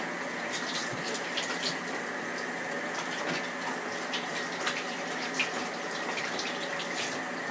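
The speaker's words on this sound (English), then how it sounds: "let me wash my hands." Tap water runs steadily while hands are washed beneath it, a close continuous rushing splash with faint irregular spatters and no talking.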